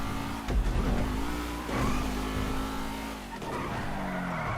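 In a GTA Online street race, a car engine revs hard and shifts pitch with tires squealing and skidding through turns, loud and continuous throughout.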